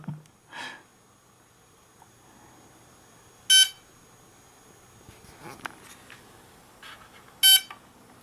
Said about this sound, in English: That's a beep I've never heard before